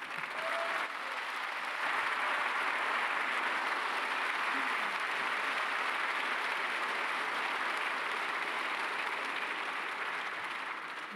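Large audience at a plenary session of a business summer conference applauding a government minister, a broad, steady wash of clapping that holds at an even level for several seconds in a big hall.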